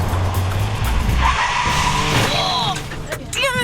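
A car braking hard from about 70 km/h, tires squealing and skidding on pavement on a driving course; a loud screech rises over engine noise, with voices talking across it.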